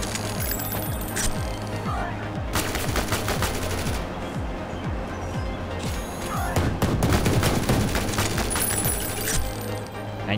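Video game gunfire from Ion Fury: Aftershock rattles in rapid, loud bursts of automatic shots, with short pauses between volleys and metallic clinks over a low background hum.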